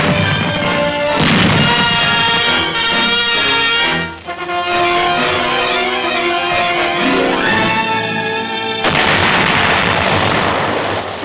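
Gunfire and explosions around tanks under fire at Okinawa, with loud continuous booming, crashes and roaring over dense battle noise with no talk.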